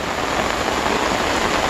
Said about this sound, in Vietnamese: Ui, mưa to quá.